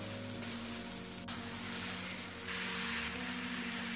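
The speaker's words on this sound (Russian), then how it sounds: "Теперь на разогретую сковородку кладем кусочек сливочного масла" Apple pieces fry in melted butter in a preheated pan, giving a steady, close crackling sizzle that runs unbroken with a slight surge partway through.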